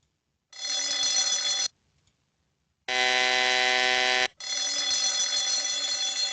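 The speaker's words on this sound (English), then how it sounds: "alarm bell." An electronic alarm bell rings loudly in three long, steady bursts separated by brief silences, with nothing else audible.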